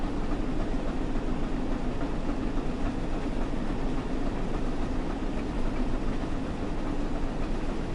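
A train running in the Train Sim World 5 video game, a steady, continuous rolling rumble with a low engine drone and faint rail clatter, unbroken for the whole stretch, with no talking.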